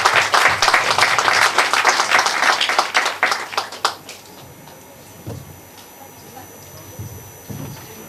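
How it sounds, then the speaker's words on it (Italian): An audience at a poetry award ceremony applauds a prize-winning poet with loud, dense clapping for about four seconds that then fades out, leaving quiet room sounds and a few soft knocks. "Facciamo un applauso"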